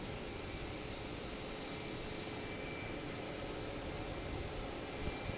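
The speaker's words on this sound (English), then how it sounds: "we got Delta taking off, heading to Charlotte" A Delta airliner takes off at Logan Airport, a steady broad roar of jet engines that stays even and fairly distant throughout, with no voices.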